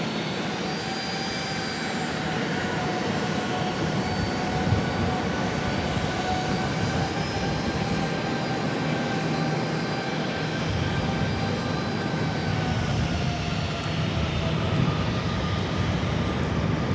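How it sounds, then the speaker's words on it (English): An American Airlines Boeing 737 MAX 8 jet at Charlotte airport gives off a steady, fairly loud engine roar that holds evenly from start to finish, with no voices over it. "Goes that 737 MAX 8 for American."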